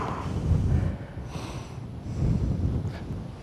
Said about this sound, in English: Hey, look, the wind's picking up.